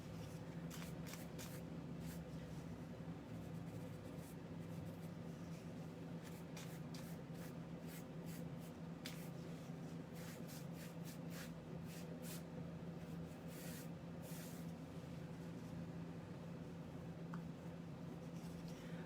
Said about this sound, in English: right now I'm just using a chip brush and getting that first coat on.